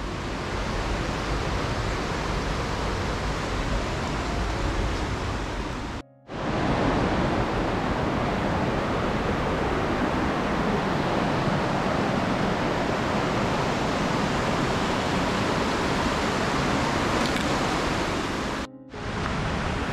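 Waterfall in the Sanagra gorge (orrido) near Como, Lombardy: a loud, steady, full rushing roar of falling water that fills the whole stretch with no talk, broken only by two brief cuts.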